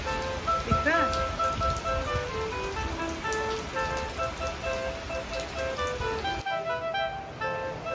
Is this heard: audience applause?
no